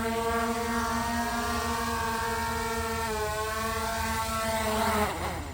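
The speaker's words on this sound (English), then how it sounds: "So now she's getting the drone to return." A camera drone on a roofing job flies back to return, giving a steady, loud whining buzz with sustained motor harmonics that holds evenly before dropping off at the end, with no talk.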